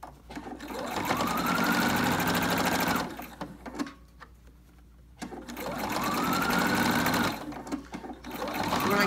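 A sewing machine stitches binding onto a Cricut Maker dust cover in two sustained runs of steady, close whirring, separated by a brief pause.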